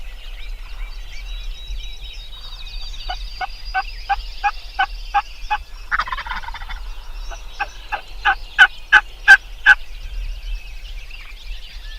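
Wild turkeys gobble and cluck in a field near their roost across a county road, the rhythmic call series growing louder and closer toward the end, with no people talking.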